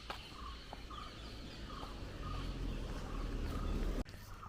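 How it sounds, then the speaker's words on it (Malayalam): Short bird calls repeat at a steady rhythm over a low background rumble, fairly close and moderately loud. "ചിലയ്ക്കുന്ന സൗണ്ട്"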